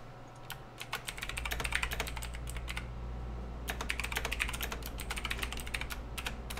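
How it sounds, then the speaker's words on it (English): Rapid typing on a regular mechanical keyboard with audible clicky keys, dense bursts of keystrokes in two runs with a short pause between, close and alone over a low steady hum. "I did not buy a quiet mechanical keyboard. I bought a fucking regular mechanical keyboard."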